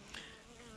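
Honey bees buzz steadily at close range while walking over a hive box during an oxalic acid treatment, a brief continuous hum with no voices.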